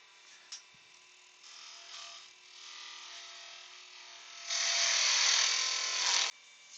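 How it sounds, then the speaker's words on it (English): A bandsaw cuts through a wooden piece with a steady motor whine that swells into a louder, harsher cutting roar near the end before stopping abruptly; nobody speaks. "we'll take this off to the bandsaw and see if I can cut it"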